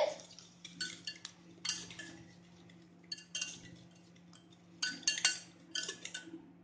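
A utensil scrapes and clinks against a bowl in repeated bursts while cake batter is mixed with olive oil for a Persian Yazdi cupcake, quiet and close with a low steady hum behind.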